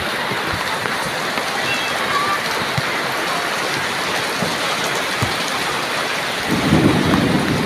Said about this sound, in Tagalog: Lakas pa rin ang ulan, oh.